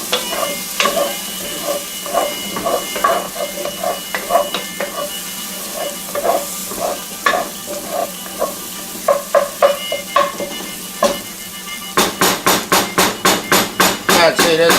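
Pork fingers frying in a pan, a steady sizzle under repeated knocking and clattering of a utensil against the pan, ending in a quick run of sharp taps, close and loud.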